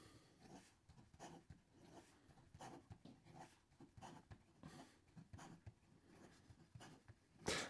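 A Shibui North Pocket Fox titanium fountain pen with an extra fine nib writing fast on paper, a very faint, close scratching made of quick irregular strokes, with a louder rustle at the very end.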